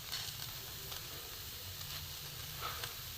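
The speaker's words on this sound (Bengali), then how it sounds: "আঁচটা কমিয়ে আস্তে আস্তে ভাজতে হবে।" Egg potato paratha frying slowly in a little oil on a pan over low heat, a soft, even sizzle and hiss that holds steady throughout, close and without speech.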